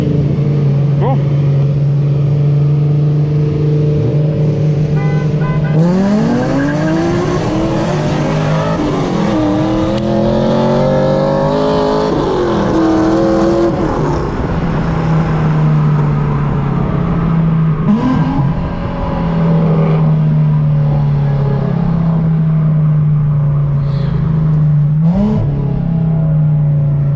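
A tuned car and an LS1 Camaro race from a 20 mph roll: a steady engine drone lifts into hard, rising acceleration sweeps with gear changes, then eases back to a cruising hum, loud and close throughout.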